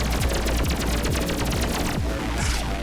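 Rapid video-game gunfire in a trap room of the game Pathogenic, a dense, continuous burst of loud automatic shots with repeating low thuds, sustained throughout with no talking.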